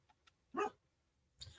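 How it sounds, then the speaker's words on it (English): A dog gives a single short bark with a couple of faint yips around it, fairly quiet against a low background hum. "he will just bark and bark and bark, and nobody wants that"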